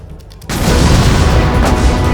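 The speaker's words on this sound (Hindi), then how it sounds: "ड्रोन के टकराते ही इमारत में जोरदार धमाका हुआ और भीषण आग लग गई" Drone strike hitting a building in Sulaymaniyah, Iraq, heard as a sudden loud blast that swells into a sustained roaring rumble of fire and debris, preceded by a brief quieter moment.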